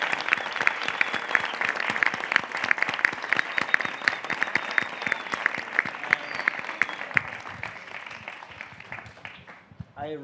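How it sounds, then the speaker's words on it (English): Dense, sustained clapping from a festival audience in a cinema after a film Q&A, loud and continuous for about ten seconds before thinning out, with a voice cutting in at the very end. "let's give them a last round of applause"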